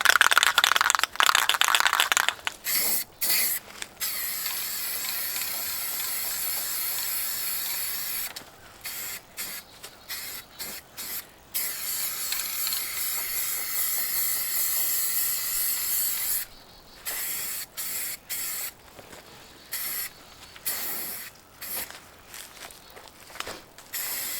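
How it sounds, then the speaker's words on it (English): Rust-Oleum gloss enamel spray paint hisses from an aerosol can onto a vintage metal sink cabinet, in long close steady bursts broken by short pauses and occasional rattles. "we are ready for gloss, enamel,"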